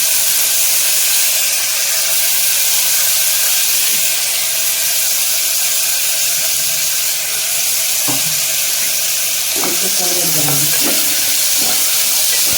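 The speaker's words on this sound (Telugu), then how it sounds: "బ్యాళ్ళు సిమ్లో ఉడుకుతూ ఉంటాయండి" Dal (lentils) cooking on a low flame makes a continuous close hiss and sizzle with soft steamy bubbling, plus a few faint clinks and stirring knocks toward the end.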